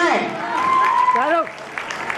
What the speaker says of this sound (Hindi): जोरदार जरा क्लैपिंग करके बताएं आप लोग मौजूद हैं।